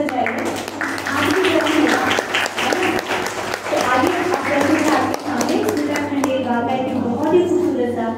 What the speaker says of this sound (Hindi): ज्यादा से ज्यादा तालियां जोर से बजाइए